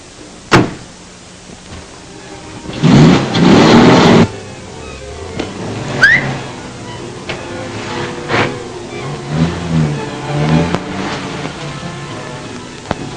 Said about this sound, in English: Look, there he gets in the car now.